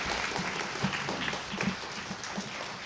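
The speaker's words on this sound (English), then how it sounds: "let's give them a big round of applause" Audience applause at an Arbor Day ceremony as award recipients come forward: a steady, moderately loud patter of clapping from a modest crowd, sustained evenly for about three seconds without voices.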